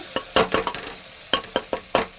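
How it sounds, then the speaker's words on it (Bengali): Red lentils and turmeric are stirred and fried in a home kitchen pan: a run of sharp scraping strokes and clacks, a few clustered then several evenly spaced, close and fairly loud over a faint sizzle. "হলুদটা দিয়ে ডালটা দিয়ে বেশ কয়েকবার নাড়াচাড়া করে বেশ ভাজা ভাজা হয়ে গেছে"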